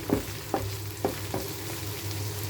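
Chicken liver sautéing in a pan with tomato, onion, garlic and ginger. A steady close sizzle runs throughout, with a spatula scraping and stirring in an even rhythm about every half second.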